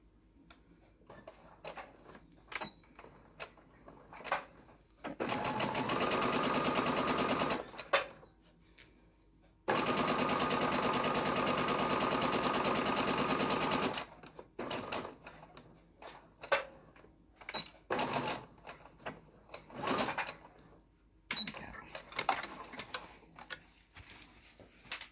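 Sewing machine stitching striped fabric with white thread for mitered corners, running in two sustained bursts of steady needle chatter, interrupted by short ticking and handling noises in between.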